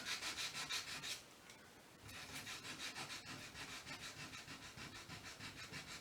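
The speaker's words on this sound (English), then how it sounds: "and if you sand down too much" Sandpaper of 220 grit is rubbed back and forth over chalk-painted wood in steady, rhythmic rasping strokes, close and continuous with a brief pause early on.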